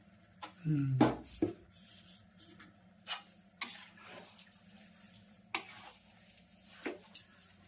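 A metal spatula scrapes and stirs a thick gundar pak mixture with ghee in a pan, giving repeated short scraping strokes and taps at a moderate pace, close and fairly quiet, with brief talking.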